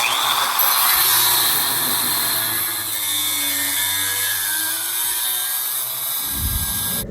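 Power tool cutting through an old lawn mower header pipe to make a dirt bike exhaust, a steady high-pitched whine held for several seconds before it cuts off near the end.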